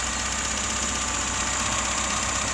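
A restored 1973 VAZ 2102 Zhiguli with adjusted valves and an aluminium-alloy exhaust idles with a steady, even engine hum and slight rattle, continuous and close, with no talking.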